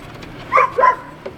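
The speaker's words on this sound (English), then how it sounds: "The dog's helping us this morning." A dog barks twice in quick succession, loud and close, followed by a faint short yip, during work changing a bad AC fan motor outdoors.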